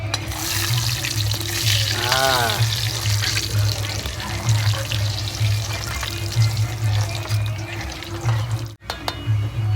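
Bread dough fries in hot oil for Gujarati dal pakwan, giving a steady loud sizzle with bubbling under it, while someone talks in Gujarati over the cooking.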